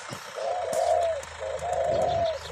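A spotted dove coos in the morning, two rolling, mellow phrases in a row, fairly close, over soft background ambience.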